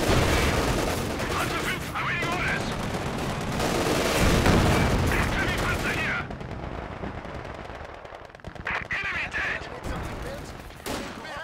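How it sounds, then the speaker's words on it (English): Sustained strafing machine-gun fire raking enemy troops in the Company of Heroes 2 strategy game, loud dense bursts for about six seconds, then sparser shots and scattered explosions with battle noise underneath. "To strafe enemy troops."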